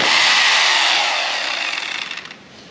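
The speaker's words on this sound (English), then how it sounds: "I'm ready to do some drilling" A power drill bores into concrete inside a shed, a loud, harsh grinding whine that runs steadily before weakening and sputtering into a rattling stop near the end.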